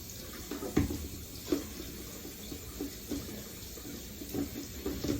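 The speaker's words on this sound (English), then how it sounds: "cut my potatoes first and then give them a quick little rinse off" Running tap water splashes over cut potatoes in a sink as they are rinsed, a steady close stream with a few louder splashes and no talking.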